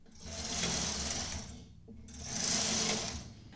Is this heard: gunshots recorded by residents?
no